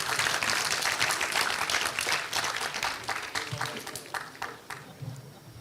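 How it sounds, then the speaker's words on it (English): Applause rises at an award ceremony as awardees are called to the stage, strong clapping at first that thins into scattered individual claps toward the end. "With a big round of applause, of course."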